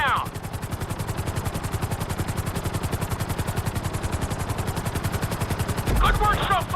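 A helicopter flies in GTA 5 on PS5 with a loud, steady rotor thump and engine drone throughout, and a brief burst of other game sound near the end.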